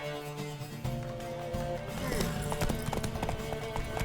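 Horse hooves clatter at a gallop in The Witcher 3 during a race to a tower, a rapid clip-clop under game music and shouted voices.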